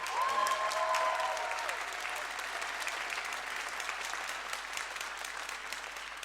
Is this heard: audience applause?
yes